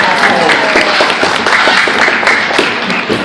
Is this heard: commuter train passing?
no